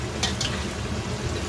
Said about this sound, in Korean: 기름에 튀긴, 기름에 끓인 카놀라유에 끓인 소고기.